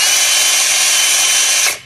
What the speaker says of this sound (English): We're gonna see how fast this one can spin.